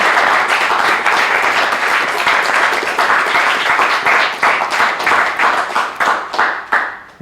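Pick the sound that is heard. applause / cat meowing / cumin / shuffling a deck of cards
applause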